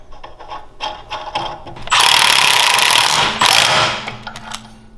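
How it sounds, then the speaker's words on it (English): Nut being tightened on a pulley on a small engine's jack shaft, a loud burst of ratcheting tool noise lasting about two seconds, then a short second burst, amid light clicks and handling sounds. "Now we can tighten up this nut."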